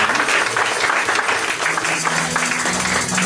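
A church congregation claps in acclaim of the Lord during a sermon, a dense, steady wash of many hands sustained throughout at close, even loudness.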